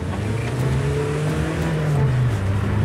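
Engine of a restored car pulling hard during a test drive, a close, steady drone that rises and dips slightly in pitch as it accelerates, with no talk over it.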